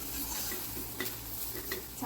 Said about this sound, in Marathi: आता ही आपण एका प्लेटमध्ये काढून घेऊया.